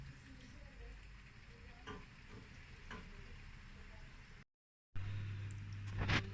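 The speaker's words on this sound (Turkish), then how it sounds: "Şöyle turşumuzu bir sefer daha karıştırıyorum." Giresun-style green bean pickle being stirred as it fries in a pan, a steady soft sizzle with faint scraping and clinks throughout, close by, broken by a brief gap near the end.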